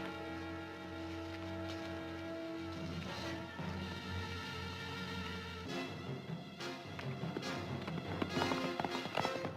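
Rapid hoofbeats of horses galloping under a loud, dramatic orchestral score, building in intensity toward the end.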